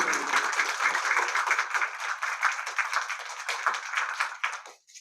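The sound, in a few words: audience applause for volunteers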